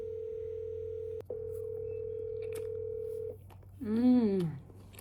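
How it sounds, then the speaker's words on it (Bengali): A phone call is being placed. A steady dial tone holds with a brief break, then drops out, and a warbling, sweeping electronic ringback or connection tone rises and falls near the end. A faint room hum sits underneath. "ওদিকে আম্মা আব্বাকে ফোন দিতেছি"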